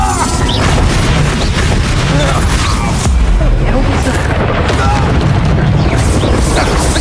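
Bombarda spell blasts in Hogwarts Legacy, continuous heavy booming and crashing combat explosions filling the whole stretch, loud and dense, with spell-casting voices mixed in.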